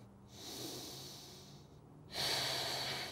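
Breathing during a yoga exercise: two long, steady, close breaths, the second louder and more airy, in a quiet room with no speech.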